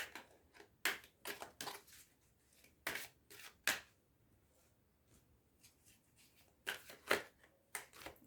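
Playing cards being shuffled for a tarot-style card pick, heard as quiet, scattered bursts of riffling and flicking separated by near-silent gaps.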